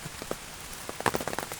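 Rain patters in scattered, irregular drops on a surface, faint and close, with a brief cluster of sharper hits midway and no voices.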